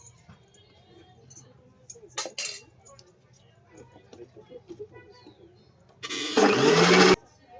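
A mixer grinder whirs loudly for about a second as it grinds guava chutney with lemon juice, after quiet kitchen clinks and faint background sounds.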